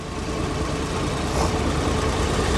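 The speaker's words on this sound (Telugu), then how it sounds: "బండి ఇంజన్ బీటింగ్ కూడా చాలా అంటే చాలా బాగుందండి" A second-hand Maruti 800 car engine idles with a steady, dense rumble that stays constant and fairly loud throughout, with no voices.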